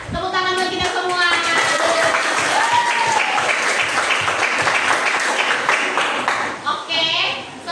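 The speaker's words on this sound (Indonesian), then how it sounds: "Tepuk tangan buat kita semua." A classroom of students claps together in a sustained round of applause lasting several seconds, loud and close, with a few voices calling out over it.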